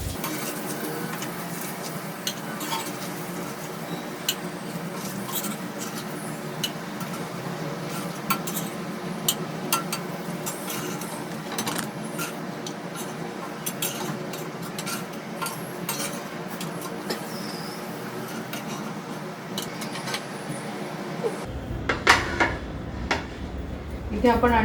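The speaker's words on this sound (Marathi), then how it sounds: "आपण ही अंडी जी दोन्ही बाजूनी फ्राय करून घेतली ती काढून घेऊया" Metal utensils scrape and clink against a hot tava as eggs fried on both sides are lifted off for an egg tava masala, with steady kitchen clatter and occasional sharp knocks.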